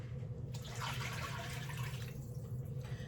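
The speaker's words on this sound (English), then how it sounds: "So I'm adding in about 4 cups of water, and hopefully this will cover them" About four cups of water poured into a cooking pot for Asian-style short ribs, a soft continuous splashing fill heard at close range and fairly quiet.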